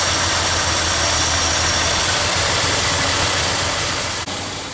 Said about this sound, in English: I got the engine running